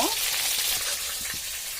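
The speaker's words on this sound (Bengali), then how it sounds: "তো মাংস ভাজা হোক, তারপর আমরা আবার চলে আসতেছি।" Chicken meat sizzles loudly in hot oil in a karahi, a steady crackling hiss close up with occasional soft stirring sounds.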